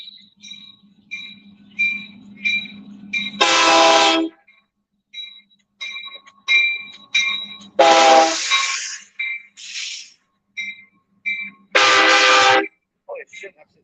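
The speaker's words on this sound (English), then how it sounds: "You guys can watch a train with me." Loud train horn blasts, three long sustained honks spaced several seconds apart, with shorter toots and rumble between them as a train passes close by.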